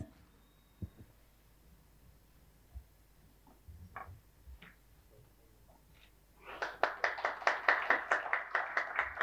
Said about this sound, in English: A big round of applause for all the speakers, everyone.